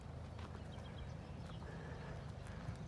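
Ponies at morning feeding in a stable, with a steady stream of hoof clip-clop and shuffling against low stable noise, and a faint whinny or two in the background.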